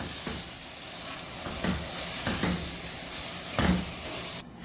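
Chickpeas cook in a pan over a medium flame, a soft steady sizzle and hiss with several duller knocks and scrapes as the food is stirred, close and moderately quiet.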